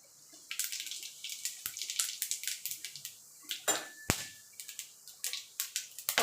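Whole cumin, cinnamon, cardamom and cloves hit hot mustard oil, giving quiet, irregular crackling pops and spits that come in quick clusters over a faint background hiss.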